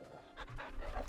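Torgal, the wolf-dog companion in the video game Final Fantasy XVI, pants in short, quiet breathy bursts over a low ambient game soundscape, with no talk.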